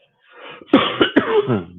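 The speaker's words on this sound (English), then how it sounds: "Sorry about the coughing, guys." A few harsh, close coughs from a person come in quick succession, with throaty rasping between them.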